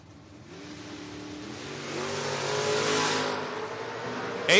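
Drag racing cars, including a Ford Mustang, launch at a door-car drag race, the engine roar swelling steadily over a few seconds, moderately distant, with no talk.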